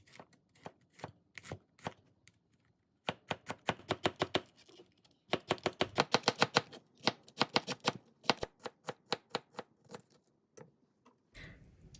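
Rapid knife chops through fried pork cutlet on a cutting board, crisp repeated strikes in quick bursts with short pauses between, close and clear with no talking.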